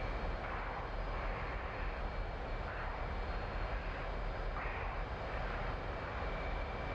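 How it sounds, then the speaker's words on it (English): An F/A-18 jet engine roaring on full afterburner in the DCS World flight game over Nevada, a steady, loud, continuous broadband rumble with no pauses, heard alone without talk. "I'm gonna go full afterburner"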